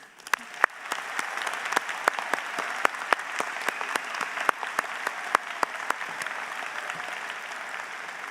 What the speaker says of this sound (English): One more round of applause, please.